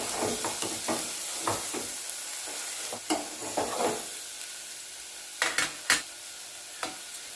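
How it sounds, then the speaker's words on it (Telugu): Spiny bitter gourd curry being mixed in a pan, with repeated scraping spoon strokes and clacks against the metal over a low, steady sizzle, the strokes irregular and close with no talking. "అంతా కలిసేటట్టు కలుపుకోవాలి"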